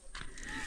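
A bull gives a short, low moo in a village cattle shed, a brief muffled call of under a second heard at a moderate distance.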